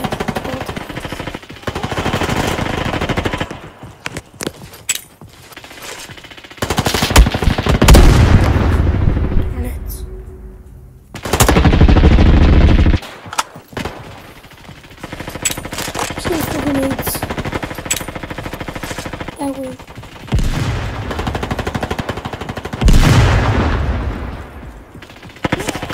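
Gunfire in a Roblox Call of Duty match, loud bursts of rapid shots and heavy booms alternating with quieter stretches, with a player's voice talking over some of the action.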